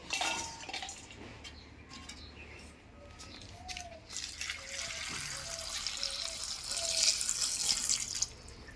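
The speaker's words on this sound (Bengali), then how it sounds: "প্রথমে আমি লঙ্কাগুলো কিন্তু ভালো করে ধুয়ে নেব জল দিয়ে" Green chillies are washed by hand in a bowl of water, giving soft splashing and sloshing with light clinks of a vessel, moderately quiet and steady throughout with no talking.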